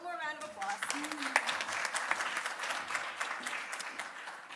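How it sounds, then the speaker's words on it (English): Audience applause at a forensic research and development symposium session on seized drugs and toxicology, a steady roomful of clapping lasting throughout, with a brief voice at the start. "One more round of applause."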